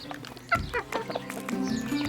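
Hens mixed in a pen with a rooster cluck and chirp in short, scattered bursts, one louder close cluck standing out, over a low background hum.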